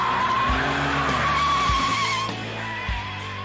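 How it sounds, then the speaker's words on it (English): A Ford F-150 full-size pickup does a burnout, its tires shrieking in long, loud wavering squeals over the deep roar of the engine, with the pitch sliding as the wheels spin. "A full-size pickup doing a burnout may surprise some people."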